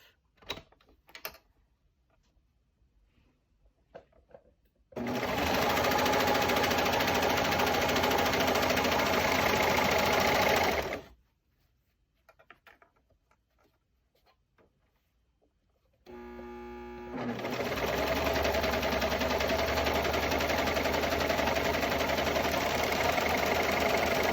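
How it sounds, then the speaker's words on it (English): Serger overlocking the seam of a cloth face mask, two steady bursts of rapid whirring stitching, each several seconds long, separated by a pause with faint handling sounds. "And then I just put it right in the serger."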